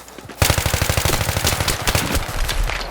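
Automatic M16A3 rifle fire in Battlefield 3, a loud rapid stream of close shots starting abruptly after a short pause and continuing in sustained bursts with slight gaps, no talking.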